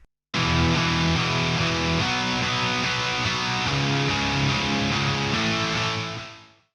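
Two electric guitar parts layered together in a mix, one tuned to Drop C and one in standard tuning, playing a dense, distorted chord passage that sustains loudly for several seconds before fading out, with no talking.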